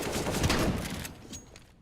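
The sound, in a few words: pump shotgun shot in a video game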